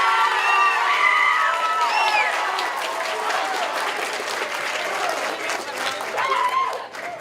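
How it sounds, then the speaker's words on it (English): Audience claps and cheers for award winners and honorees at a spring middle and high school band concert, loud dense applause with children's whoops and shouts that gradually thins out, swelling briefly again near the end. "Let's give one more round of applause for our award winners and honorees."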